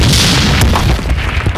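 A single firecracker goes off with a heavy, booming blast in a Telugu film scene, a sharp loud burst followed by a brief rumbling tail, with no voices.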